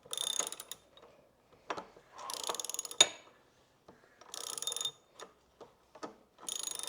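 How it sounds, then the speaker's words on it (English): A wrench ratchets as it tightens the rear shock bolt on a KTM 50 dirt bike, in several short bursts of quick clicking separated by pauses, with occasional knocks of metal against metal. "Now we'll turn it the other way and tighten."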